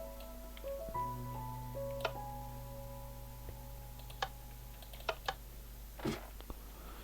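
Mouse clicks in a moon exploration game: a handful of sharp, isolated taps spaced irregularly over a faint electronic hum, quiet and close, with no talking.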